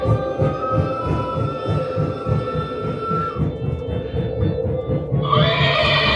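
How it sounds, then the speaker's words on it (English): A horse neighs loudly over a steady rhythmic train chugging in an old Wild West mining town, Virginia City, Nevada, followed by a second high whinny near the end. "Oh, hear the horse neighing."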